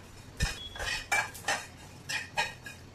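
White sesame seeds dry roasting in a hot kadhai, heard as a series of sharp metallic clinks and scrapes of a spoon against the pan, about six distinct strikes over quiet crackle.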